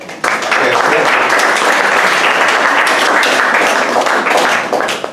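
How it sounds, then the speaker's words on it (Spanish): Sustained audience applause for a presenter at a company training session, a dense continuous wash of many hands clapping that holds steady for several seconds, close and loud. "un fuerte aplauso aquí para mí"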